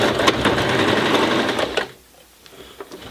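A Janome 2212 sewing machine laboring as it stitches through eight layers of denim, a steady loud mechanical whir for almost two seconds that then stops, leaving a quiet room with faint clicks.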